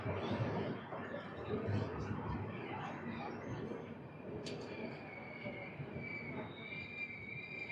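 Express train 17221 rolls into Nadikudi junction with a steady rumble and wheel squeal, heard from on board and fairly quiet, with faint voices underneath.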